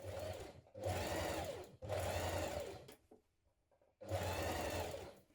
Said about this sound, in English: we're going to edge stitch around this pocket placement